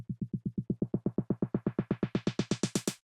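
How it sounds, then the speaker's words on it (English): Steady electronic snare roll that opens from a muffled, dark thud into a bright, crisp hit, evenly repeated and building toward the end. "So the snare rolls are going to start off dark."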